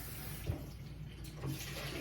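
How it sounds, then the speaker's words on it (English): Warm water pours from a cup into a bowl for bread dough, a short steady splashing stream in a home kitchen, close and continuous with a soft gurgle. "let's go ahead and start with the 1 cup of warm water"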